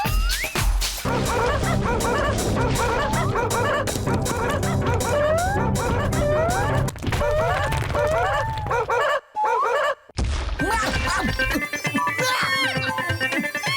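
A cartoon dog from the animated series Motu Patlu barks and yips loudly in rapid, repeated bursts over a musical score, with whimpering sliding cries in between and a brief break before the music returns.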